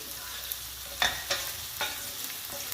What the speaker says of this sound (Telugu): వంకాయలతో పాటు అల్లం వెల్లుల్లి పేస్ట్ కూడా బాగా ఫ్రై అవ్వాలండి